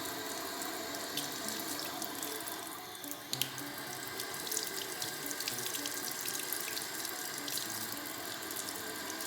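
Warm water runs steadily from a kitchen tap into a sink while pizza dough is prepared, a continuous close hiss and splash with a small bump partway through.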